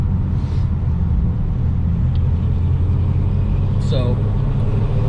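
A Dodge 5.7 R/T Hemi V8 car engine rumbles steadily while driving, a loud, constant low drone with a brief rising rev near the end.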